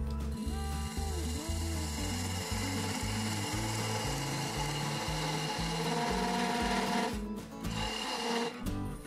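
Cherry log being shaped on a woodturning lathe, a steady close rubbing and scraping of the tool against the spinning wood with a rhythmic pulse, a brief break near the end.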